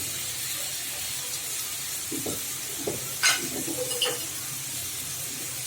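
Onion and green chili frying in a pan, a steady low sizzle and hiss with a few brief stirring scrapes and clinks near the middle, close but fairly quiet, no one speaking.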